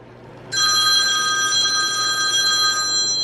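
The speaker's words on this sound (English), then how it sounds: "Oh, my phone's ringing." A mobile phone rings in a home kitchen where baking is under way, a sudden, loud, steady electronic tone with several high ringing pitches that starts after a short quiet moment and keeps going, close by, with no voices over it.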